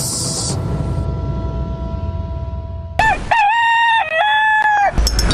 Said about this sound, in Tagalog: Kasabay ng pagtilaok ng mga manok